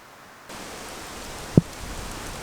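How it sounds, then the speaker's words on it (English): Rain begins to fall outdoors in the Australian wilderness as the wind picks up: a steady broadband hiss swells in after a quiet start, with one sharp thump partway through and no voices. "The wind's picked up and it started to rain now."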